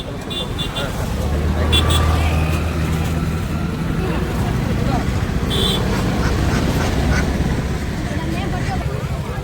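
Ducks for sale quacking in short bursts amid a busy outdoor din of traffic rumble and people talking nearby, in Venkatagiri.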